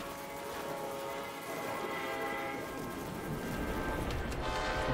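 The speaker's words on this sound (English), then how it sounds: "Wait for the train to pass." A train rumbles past steadily in the Plants vs. Zombies Garden Warfare 2 game, a continuous rolling roar with a faint horn-like tone, heard alone under in-game ambience.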